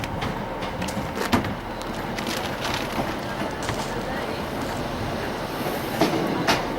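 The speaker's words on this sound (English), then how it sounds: "Here's our trains." A passenger train pulls into the platform at Corrour station, giving a steady rumbling roll with faint clickety-clack and a few brief squeals, broad and continuous under occasional voices nearby.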